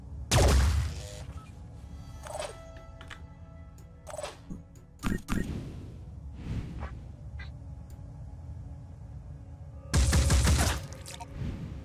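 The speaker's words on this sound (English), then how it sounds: "The turret might be able to take a couple of shots as well." Turret in the video game Phoenix Point firing a few loud, sharp shots with bursts near the start, around the middle and near the end, separated by quieter stretches of ambient game sound.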